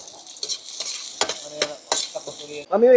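Onion and homemade peanut butter sautéing in a pan for kare-kare sauce, a bright sizzle under several quick, close scrapes of a spatula stirring, getting louder at the very end.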